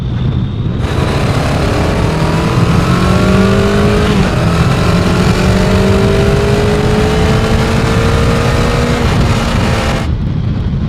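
An older motorcycle engine pulls steadily under acceleration while riding through Dutch countryside, its tone rising through the gears with constant loud wind and engine roar, moderately revved rather than pushed hard.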